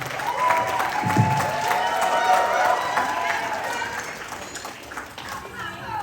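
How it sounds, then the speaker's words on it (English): An audience at a beauty pageant event claps and cheers in a hall, loud mixed applause with scattered whoops under a host talking, easing off toward the end. "give them a big round of applause because they're doing so well"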